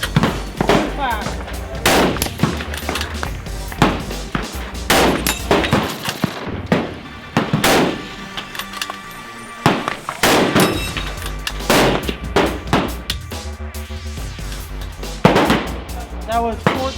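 A custom Italian precision rifle fires a rapid string of loud, sharp shots at uneven intervals, some closely spaced, in an outdoor timed shooting drill, with brief gaps between bursts.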